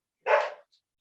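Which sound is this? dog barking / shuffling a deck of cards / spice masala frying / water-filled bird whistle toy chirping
dog barking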